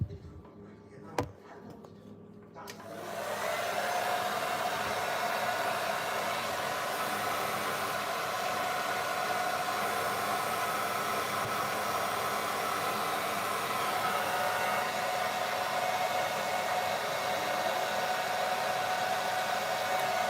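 A hair dryer blows steadily and loudly for most of the span, switching on after a brief quiet start with a click, used as a heat tool alongside a chisel and pry bar for prying something loose during home improvement work.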